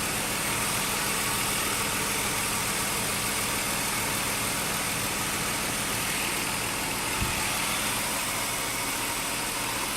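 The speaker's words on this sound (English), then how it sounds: "you put your hand on top of that engine's absolutely smooth, no shaking or nothing" A 2003 Ford Taurus engine idling smoothly just after a cold start, a steady, even hum and broadband whir heard up close throughout, with one faint knock partway through.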